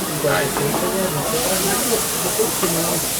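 Water is poured onto a hot griddle while Hiroshima-style okonomiyaki cooks, and a loud, steady hiss of steam and sizzling runs throughout, with people talking over it.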